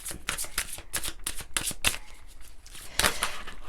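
A deck of oracle cards shuffled by hand: dense bursts of riffling and slapping card sounds, some sharp snaps, close and crisp, with no one speaking.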